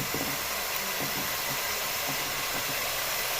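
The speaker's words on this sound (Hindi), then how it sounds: "अब हम इसके अंदर डाल देंगे लहसुन और अदरक का पेस्ट" Beef fries in a pan with garlic and ginger paste, a constant broad hiss and sizzle at moderate level, with a few faint low thuds of stirring underneath and no talk.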